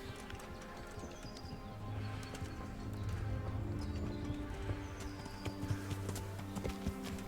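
Horse hooves clip-clopping at a steady gallop in the medieval game Kingdom Come: Deliverance, continuous and fairly close, with a brief whinny and some outdoor ambience behind it.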